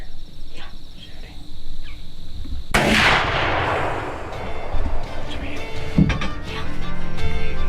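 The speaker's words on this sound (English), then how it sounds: "Shooting." A single loud rifle shot rings out during a youth deer hunt in Illinois, a sharp crack followed by a long rolling echo that fades over several seconds against outdoor insect noise.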